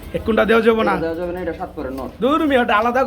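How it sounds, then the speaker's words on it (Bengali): Spanish pigeons, including a seven-feather male, coo close by in low, rolling throaty calls, repeated in several bursts, with voices talking over them at a pigeon sale. "এটা সাত ফেদার একটা নর কবুতর স্প্যানিশ"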